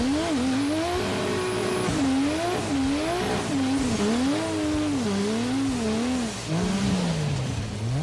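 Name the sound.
muscle car engine on the rev limiter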